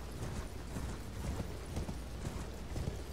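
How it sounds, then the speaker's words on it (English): A horse gallops in Elden Ring, steady rapid hoofbeats thudding under a dense layer of game ambience and music, continuous and fairly close for a few seconds with no voices. "so you can just gallop down this way."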